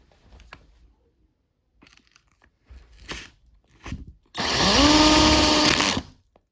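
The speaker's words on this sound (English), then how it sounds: "So I'm gonna go ahead and start getting these feeder wires drilled out." A power drill bores a feeder-wire hole in a model railroad layout, making a loud, sustained whine of about two seconds that follows several short knocks and scraping handling sounds, with no talking.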